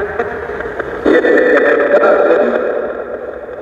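Cars pass along a road outside, a continuous steady rumble of traffic that swells slightly midway and then eases off as the flow thins.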